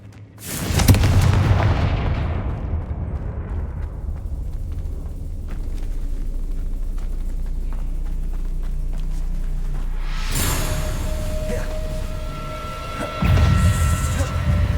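Explosive Confringo and Bombarda spells in the video game Hogwarts Legacy: a heavy boom at the start decaying into a long rumbling tail, then another sharp blast near the end, loud and close.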